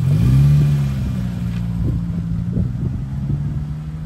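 A vintage Morgan Plus 4 sports car engine revs and pulls away, a low rumbling drone that eases off as it moves on, with some wind noise.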